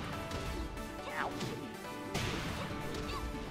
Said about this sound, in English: I love the way it sounds like plates crashing when some of them break